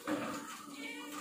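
A hungry house cat, waiting to be fed during a home lunch of chicken curry, gives one drawn-out meow, soft and close, with no other sound over it.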